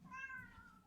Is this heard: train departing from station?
no